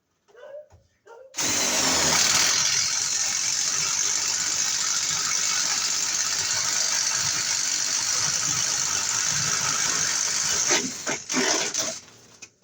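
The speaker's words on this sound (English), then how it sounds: "I'm gonna drill a couple holes here." A power drill whines steadily for several seconds up close, then stops, with brief clatter and a few quiet sounds before and after.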